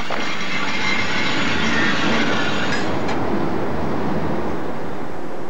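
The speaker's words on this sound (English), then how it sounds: "the wagons freewheel the final 100 metres into the cement works" Fifteen-tonne freight wagons freewheel along the final stretch of track into a cement works, giving a steady loud rolling rumble with a broad hiss and faint metallic squeal that thins out partway through.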